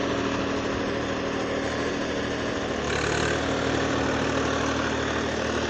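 A tractor engine drones loud and steady while pulling a cultivator deep into the soil in third gear under load, with a slight shift in tone partway through and no voices.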